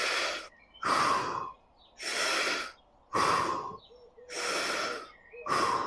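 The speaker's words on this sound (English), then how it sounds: "3 deep breaths here." Four deep, slow breaths during a fascia-based core exercise, each a loud, airy inhale or exhale lasting about a second, separated by brief quiet pauses, close and alone with no talking.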